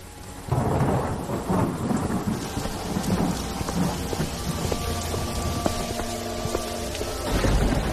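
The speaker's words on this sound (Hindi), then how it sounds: "तभी जोर जोर से बारिश शुरू हो जाती है।" Heavy rain pours down steadily with rumbling thunder, loud and continuous throughout.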